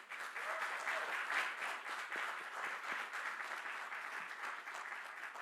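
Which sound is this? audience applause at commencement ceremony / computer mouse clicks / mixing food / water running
audience applause at commencement ceremony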